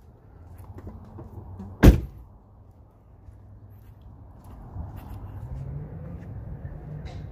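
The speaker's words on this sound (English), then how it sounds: "And close this door." A car door on a Chevrolet Impala shuts with one sharp, loud thud amid quiet background ambience, followed by soft low rumbling and faint shuffling.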